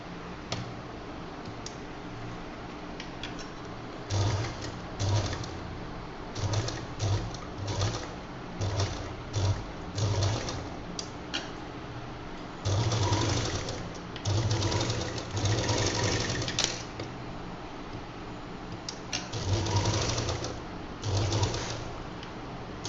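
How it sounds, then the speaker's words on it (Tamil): A sewing machine stitches fabric for a decorative bow on a purse, running in several bursts of rapid mechanical ticking with short pauses between, close and fairly loud with no talking. "திருப்பி இங்கேருந்து தையல் போட்டு இங்கே வரைக்கும் 2 தடவை ஸ்டிச் போட்டு எடுத்துக்கலாம்."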